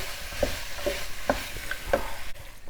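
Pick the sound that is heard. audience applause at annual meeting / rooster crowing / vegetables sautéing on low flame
vegetables sautéing on low flame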